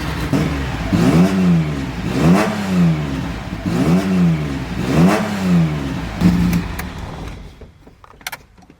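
A car engine revs hard in a series of sharp throttle blips, rising and falling about once a second. Each blip is loud and close, and the engine drops back to a quiet idle at the end.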